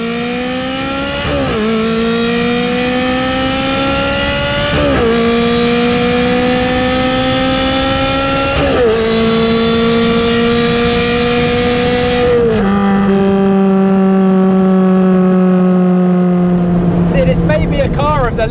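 A loud Ferrari 360 Challenge Stradale engine revs upward through several gears, each shift dropping the pitch before it climbs again, close and continuous.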